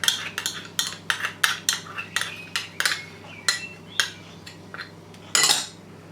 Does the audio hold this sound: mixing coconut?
yes